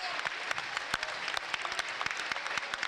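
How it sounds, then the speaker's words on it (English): Rugby league crowd at a York Knights versus Batley Bulldogs championship match gives a scattered, fairly distant round of applause with sharp individual claps as a player leaves the field. "To a fabulous round of applause"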